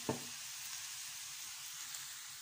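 Champignon mushrooms frying in a pan give a quiet, steady sizzle throughout, with a soft clink at the very start.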